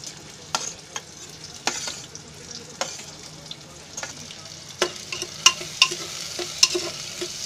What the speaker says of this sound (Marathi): कांदा टाकला की असं जरा हलवायचा आणि थोडं जरा लाल होईपर्यंत भाजायचा.